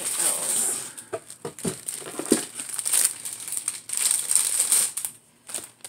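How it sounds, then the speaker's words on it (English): Craft packaging crinkles and rustles in bursts during an unboxing of trims and fabric, with soft crackling continuing throughout, close to the microphone. "sorry for the crinkling"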